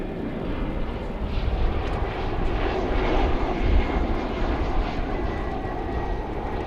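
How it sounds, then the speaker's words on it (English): A CRJ 701ER jet airliner arrives at DFW airport, its engines giving a steady broad roar with a whining hiss on top, loud and sustained throughout. "We have for you a CRJ 701ER coming in from Colorado Springs."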